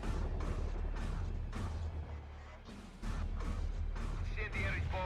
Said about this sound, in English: Incendiary bomb working as planned.